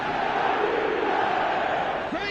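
Stadium crowd in an eFootball video game, a dense continuous roar of chanting supporters that holds steady throughout at high level, with a commentator's voice faintly blended in.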